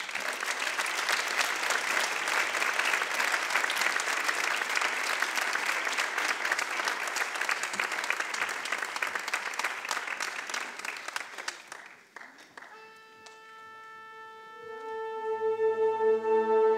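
Loud, sustained audience applause fills a concert hall after a municipal concert band's autumn concert, dense clapping lasting about twelve seconds before fading as the band begins sustained tonal notes.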